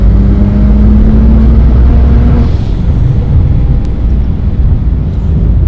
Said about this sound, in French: Oh, le relâchement d'air, c'est un truc de fou.